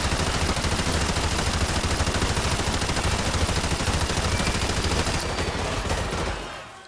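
Automatic machine gun fire in the video game Modern Warfare 2 during an airport massacre of civilians: continuous loud rapid bursts pounding without letup, then tapering off in the final second.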